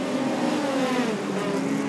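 Midget speedcars racing at Archerfield Speedway, their engines droning steadily and loudly throughout as the pack brakes slightly and slows through a turn, with no voices.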